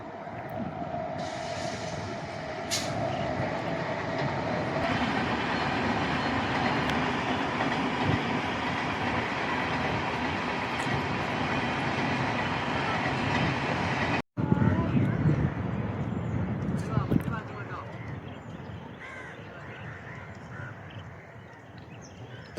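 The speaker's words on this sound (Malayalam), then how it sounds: "ട്രെയിൻ വരുന്നുണ്ട്." A train crosses the new railway bridge at Kadalundi, a loud, steady rolling rumble with rhythmic clickety-clack of wheels on rails for about fourteen seconds, then a sudden break and quieter, more distant rattling as it passes.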